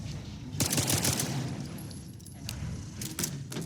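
Bursts of pistol gunfire in S.T.A.L.K.E.R. 2, several sharp shots in quick clusters near the start and end, moderately loud over a low ambient rumble.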